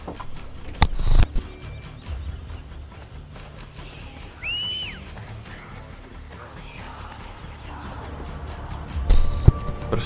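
Horse hooves clop in the video game Assassin's Creed Brotherhood, with sparse clicks and knocks at the start and end, a brief whistle-like sound in the middle, and a low game soundscape in between.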